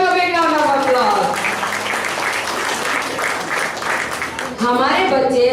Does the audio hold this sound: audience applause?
yes